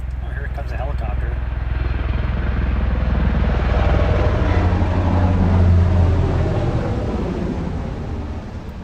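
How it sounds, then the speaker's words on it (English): A search and rescue helicopter passes over a Montana backcountry spot, a steady low rotor drone that swells toward the middle and then slowly fades, with a voice talking over it. "that's a search and rescue helicopter. I can tell by the sound of it."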